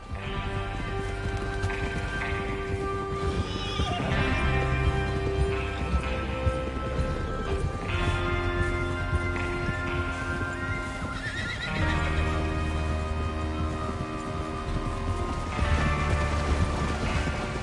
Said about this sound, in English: Get your horses ready.